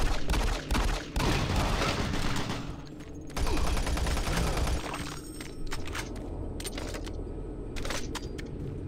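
Rapid bursts of gunfire from the shooter Doom 3 BFG Edition, loud and dense with repeated shots and booming impacts filling the whole stretch, no talk over it.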